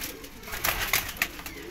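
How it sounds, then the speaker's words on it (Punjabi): Pigeons coo softly in a loft, with a few rounded calls and light rustling rising over a quiet background. "ਕਈ ਭਰਾ ਮੰਗਦੇ ਸੀ ਸੇਮ ਕਬੂਤਰ ਇੱਕੋ ਜਿਹੇ"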